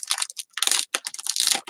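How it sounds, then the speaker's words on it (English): Paper crinkles up close in quick, irregular bursts of crackling, with brief silent gaps between handlings. "Sorry for the crinkly sound."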